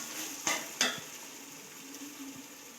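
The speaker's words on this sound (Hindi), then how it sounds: "आलूओं को चिकन और तमाम मसाला जात के साथ अच्छी तरह से फ्राई कर लें।" Potatoes frying with chicken and spices for chicken pulao, a soft steady sizzle with two sharp stirring scrapes early on and lighter clinks of a spoon against the pot later.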